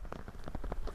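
Rain falls steadily on the surface during a rally stage in New Zealand, a dense patter of drops that is close and continuous, with no voices.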